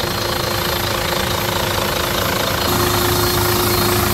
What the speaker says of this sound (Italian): Motore Fiat Iveco, 400 cavalli,